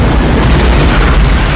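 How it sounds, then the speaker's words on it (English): A building at an abandoned refinery blows up in a loud, sustained explosive roar, dense low rumble and blast noise filling the whole moment without a break. "moments before the building explodes"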